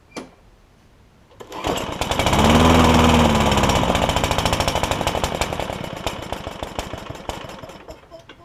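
A Craftsman push mower with a Tecumseh OHV engine, carb freshly cleaned, starts after a quiet moment and runs loud and close with a steady rapid putter, surging slightly then settling.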